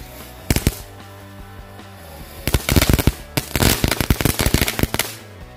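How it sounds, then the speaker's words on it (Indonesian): A full pack of rocket-style firecrackers (mercon roketor) sets off a rapid, irregular string of sharp, loud cracks outdoors: a few bangs at first, then a dense crackling burst after a short pause, with no talking. "kita nyalakan satu pak mercon roketor"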